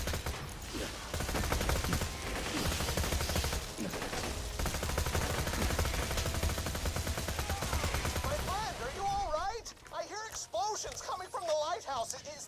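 Shotgun gunfire in a looter-shooter video game, rapid repeated blasts layered with game effects in a dense, loud barrage, followed by warbling electronic sounds near the end.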